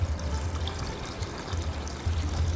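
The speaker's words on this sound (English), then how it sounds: "Then next I add some water." Water pours into a pot of rice seasoned with a spice blend, a steady close trickling stream that fills the whole short stretch without any talk.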